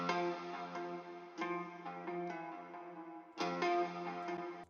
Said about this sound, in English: Last element, small little guitar pattern.